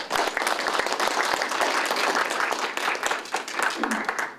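Audience applause at a Korean literary awards ceremony and writers' evening, a dense, steady burst of many hands clapping throughout, loud and close with some voices mixed in.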